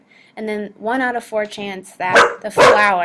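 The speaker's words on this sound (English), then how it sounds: "I apologize for the dog barking." A dog barks several times in the background while a person speaks over it, the barks blending with the talk.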